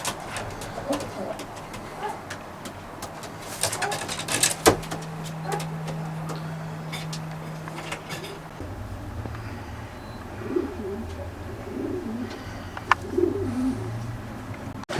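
Racing pigeons coo softly amid a busy loft, with scattered clicks, a door sliding, and people talking now and then.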